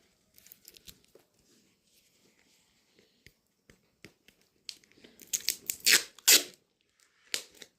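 Adhesive tape is pulled and torn off while wrapping a book in ordinary oilcloth: scattered soft crinkles and clicks give way to a few sharp, loud ripping bursts near the end, close to the listener.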